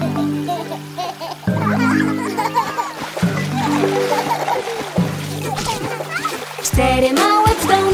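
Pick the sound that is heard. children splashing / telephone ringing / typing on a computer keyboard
children splashing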